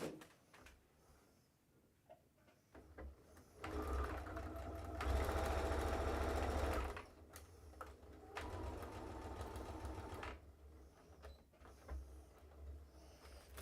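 Sewing machine stitching the top seam of two short fabric pieces placed face to face, a quiet motor hum with a couple of short running bursts and a longer steady run in the middle, alongside faint handling sounds.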